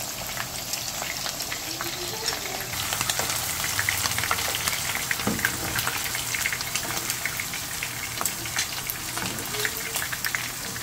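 Shrimp frying in hot oil, a steady close crackling sizzle with dense pops running throughout, no talking.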